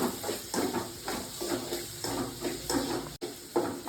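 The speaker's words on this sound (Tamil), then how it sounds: "அரிஞ்சு வச்சுருக்க வெங்காயத்தை போட்டு வதக்கணும் இதுவும் நல்லா பொன்னேரமாக வதங்கணும்" Chopped onions sauté in a pan for a ginger curry, giving a close, textured sizzle broken by repeated rhythmic stirring strokes, with one brief dropout near the end.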